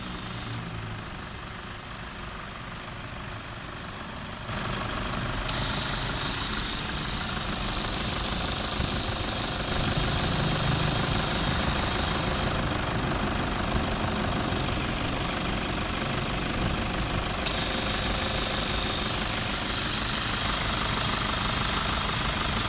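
A Toyota Hilux Vigo 3.0 litre diesel, a manual-gearbox lifted Prerunner, runs steadily with a mid-pitched, slightly knocking idle that rises in level after a few seconds and stays constant, with no talk.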